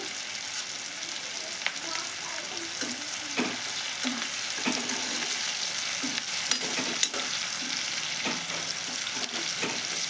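Onion pieces frying in oil in a pan, a steady close sizzle with repeated scraping and stirring knocks throughout, no talking.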